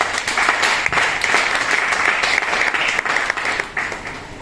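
A church congregation claps together in sustained, dense applause that holds steady and fades slightly at the end, with no speech over it.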